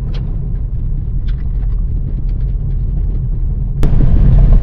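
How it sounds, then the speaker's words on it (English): A Honda Civic rolls along a desert dirt road in Arizona, its cabin filled with a steady low rumble of tires on gravel, a few faint rattles, and a sudden thump near the end. "It's nice to be able to drive on a dirt road in a Honda Civic."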